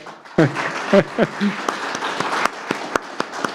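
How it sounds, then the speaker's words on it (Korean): Church congregation at a Sunday worship service breaks into brief, scattered clapping, a few sharp claps standing out, while a voice speaks over it near the start. "우리 힘내시라고 박수 한번 하는 건 어떨까요?"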